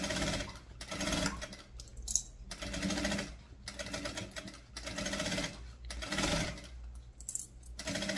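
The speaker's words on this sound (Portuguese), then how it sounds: "E vamos voltar do outro lado e finalizar a nossa costura." A sewing machine stitches the seam of a baguette bag in four or five close, loud bursts of rapid mechanical whirring, separated by short pauses.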